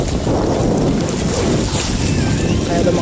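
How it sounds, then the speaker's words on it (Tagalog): Strong wind roars across an open fishing boat at sea with rough waves, a dense, loud, unbroken rush of wind buffeting the microphone over the wash of water, with a voice faintly underneath. "Medyo lumakas na yung hangin eh."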